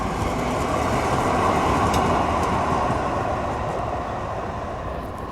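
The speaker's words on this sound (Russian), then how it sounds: "Вау, это типа трамвай такой, только выглядит как что-то среднее между трамваем и поездом" A Mendotran tram-train rolls past on a street in Mendoza, Argentina, with a steady, loud rumble of wheels on rails that continues throughout and eases slightly toward the end, with no talking.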